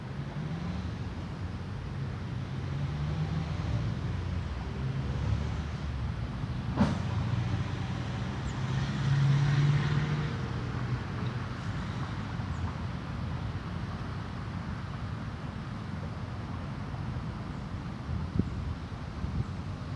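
Car engine in first gear during a driving lesson on a dirt lot, a steady low rumble running throughout with a slight surge midway, wind noise over the microphone and no talk.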